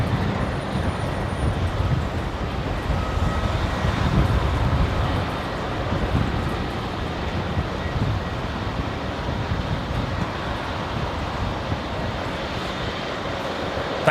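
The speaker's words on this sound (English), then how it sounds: "Hopefully the reverse thrust sound coming through the microphone okay." An airliner using reverse thrust while landing on runway 19 left at Brisbane Airport, a steady, loud jet roar mixed with wind noise that holds across the whole stretch.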